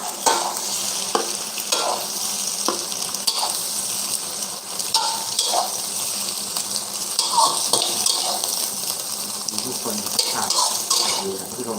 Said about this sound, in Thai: แค่ทอดไข่ก็หอมละ